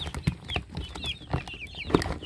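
Young chicks and chickens on a countryside farm cluck and peep close by, with bursts of clucking, thin high chirps and a brief flutter of wings.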